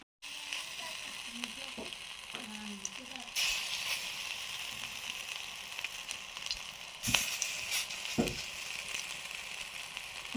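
Shrimp and lentil fritters fry in a very hot wok with a constant soft sizzle, broken by occasional sharp clinks and scrapes of utensils, and a voice speaks briefly in places.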